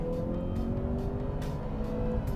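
Steady engine drone of a 2015 Ford Fusion Titanium with 177 kW and 340 Nm, heard from inside the well-insulated cabin as a smooth, even hum with no talk.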